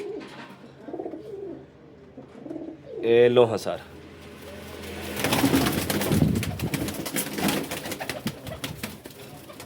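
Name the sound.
Sialkoti pigeons cooing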